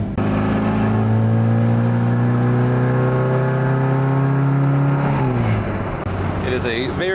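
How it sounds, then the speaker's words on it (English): Inside a 1965 Mini Cooper with the windows open, the engine drones loudly and steadily at constant revs while driving, then drops in pitch as it eases off near the end. "the engine is basically in your lap, so it is quite loud."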